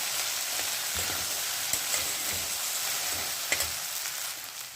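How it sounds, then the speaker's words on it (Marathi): Okra (bhindi) for a dry Jain bhindi sabzi stir-fried in a pan over medium gas: steady close-up sizzling and frying with occasional scraping stirs, no talking. "जिगट पण आहे ना ते सगळं जाऊपर्यंत भाजायचं गॅस मिडियम आहे"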